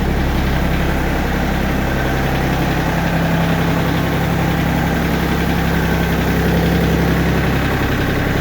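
An Iseki TA 235 tractor idles while warming up, its engine a loud, steady, low chugging rumble with constant vibration held throughout, close by and with no voices.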